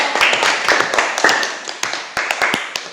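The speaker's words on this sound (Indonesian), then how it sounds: "Mari kita berikan tepuk tangan untuk" A classroom group claps in a brisk, scattered round of applause, many hands striking irregularly and fading slightly toward the end.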